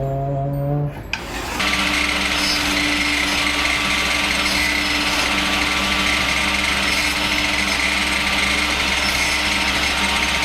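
A table saw cuts steadily during a Yamaha grand piano overhaul, its loud, continuous rasping whine starting abruptly after a brief motor spin-up and running unbroken to the end.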